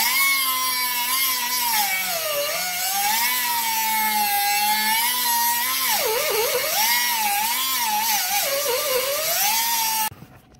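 Angle grinder cutting through a bolt on a Skunk2 K24 intake manifold being modified to fit a K20, a loud continuous high whine that dips and rises in pitch as the disc loads, then cuts off at the end.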